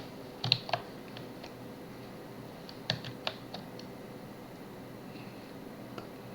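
Computer keyboard keys tapped in a few scattered clusters of sharp, close clicks with gaps between them, over a faint steady room hum and no talking.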